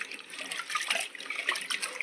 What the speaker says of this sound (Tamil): அதே போல் உளுந்தையுமே ஒரு 2 தடவை அலசிடலாம்.